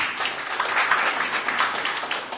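Church congregation applauding during a sermon at a Jakarta church service; dense, steady clapping from a moderate distance, holding evenly throughout without a break.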